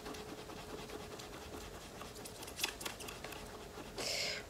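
An eraser scrubs back and forth on a dirty shoe in quick, soft rasping strokes close by, ending in a brief louder scraping burst.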